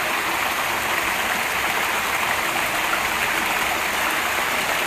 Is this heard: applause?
no